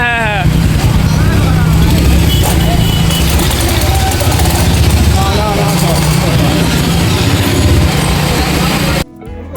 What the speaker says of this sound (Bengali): আমরা ভয়ানক রাস্তা দিয়ে ভয়ানক বাইকে যাচ্ছি।